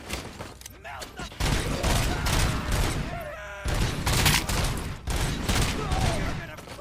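Gunfire in the RoboCop video game on PS5: repeated bursts of automatic shots and booms, loud and dense, with game voices shouting between volleys.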